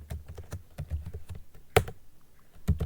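A command is typed on a computer keyboard, with quick uneven keystrokes clicking nearby and a few harder taps standing out, heard alone and fairly faint.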